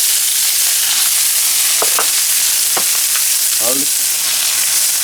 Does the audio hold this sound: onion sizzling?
yes